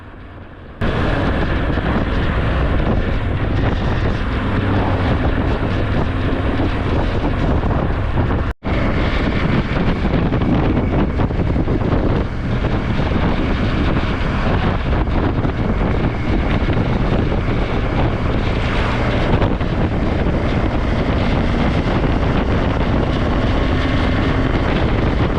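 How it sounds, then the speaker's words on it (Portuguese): Heavy, constant wind roar buffets a GoPro microphone while a motorcycle engine drones underneath on Ruta 40 near Bariloche, Argentina, loud and unbroken apart from one brief dropout. "a GoPro pegava o som do vento e da moto"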